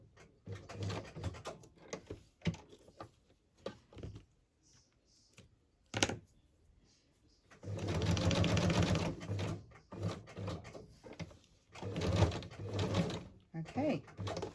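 Short bursts of a sewing machine doing straight stitching on fabric, with longer runs midway, broken by pauses, small clicks and handling noises.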